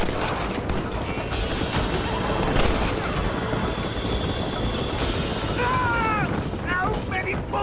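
Gunfire in the Western video game Red Dead Redemption: a dense, continuous crackle of shots mixed with game noise and ricochet-like chirps, running under voices throughout.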